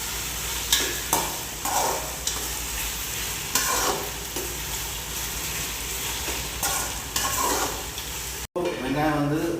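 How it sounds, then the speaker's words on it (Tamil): Onions sauté in a pan for chicken biryani with a constant loud sizzle, broken by repeated scraping stirs. A voice begins speaking briefly at the very end. "வெங்காயம் ஓரளவுக்கு வதங்கிடுச்சு."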